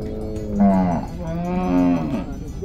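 Cattle moo loudly and close by at a cattle market during unloading, two long drawn-out lowing calls one after another.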